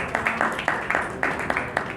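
An audience at a municipal bond ceremony claps in welcome for honoured guests. The applause is steady and moderately loud, with the sharp claps coming close together.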